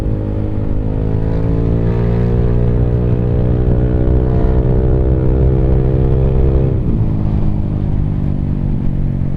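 A Yamaha Aerox motor scooter accelerates on a busy road, its engine whine climbing steadily in pitch at less than full throttle, then dropping sharply near the end as revs fall, loud and continuous with no talking.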